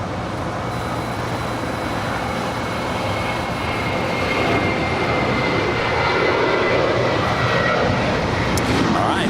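A jet airliner taking off from runway 25 right at Los Angeles LAX airport, a loud, steady engine roar that swells slightly as the plane accelerates, with no voices over it.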